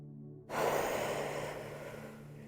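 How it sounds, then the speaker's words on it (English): One deep, slow belly breath drawn through the nose during slow, gentle yoga stretching, heard close and soft as a long, steady airy whoosh that fades gradually. "Finding that big belly breath to aid you in these stretches."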